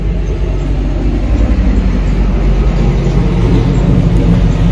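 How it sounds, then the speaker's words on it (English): A big truck passes a porch, giving a loud, continuous low rumble and engine roar that holds steady through the moment without any voices. "The big truck."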